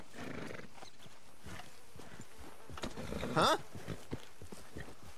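Horse hooves clip-clop in Red Dead Redemption 2 as the rider urges the mount on, a steady walking rhythm at mid distance, followed by a brief whinny. A voice speaks briefly.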